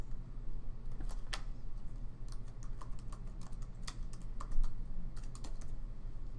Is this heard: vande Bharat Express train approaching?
no